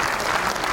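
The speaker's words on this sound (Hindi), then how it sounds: "एक बार मुझे दोनों हाथ और उठाकर ताली बजा के बताओ" A crowd at a live stage event claps hands held high, producing a thick, continuous burst of applause, near and loud throughout.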